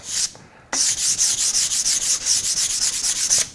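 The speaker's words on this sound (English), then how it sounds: "But if you just take a piece of sandpaper like this and just sand up and down" A tapered wooden table leg is sanded by hand with a sheet of sandpaper, a loud close rasping in quick regular up-and-down strokes after a brief pause, no voices.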